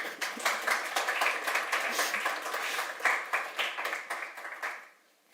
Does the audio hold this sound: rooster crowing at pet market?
no